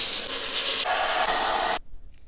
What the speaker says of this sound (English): what I'm going to do is spray it down with compressed air to get any water out of cracks and crevices